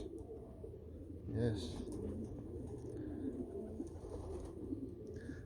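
Janssen racing pigeons coo softly nearby in a loft, with a single louder burst of cooing early on and a brief spoken word over the birds.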